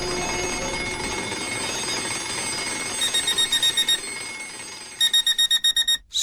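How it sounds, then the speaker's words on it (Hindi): A ringing bell blending into a home alarm clock, a continuous electric ring followed by two bursts of rapid repeated beeps, close and loud. "स्कूल बेल बजते बजते ही धीरे धीरे घर का अलार्म क्लॉक बन गई"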